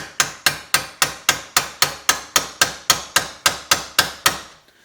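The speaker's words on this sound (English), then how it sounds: "Go on the front here and punch this bolt through." A hammer drives a metal punch against a bolt to knock it through the frame of a Suzuki Intruder VS1400 motorcycle during engine removal: about fourteen sharp, evenly spaced metallic strikes, roughly three per second, loud and close, with no talk.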